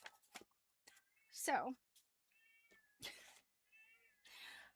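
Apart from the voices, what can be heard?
cat meowing and yowling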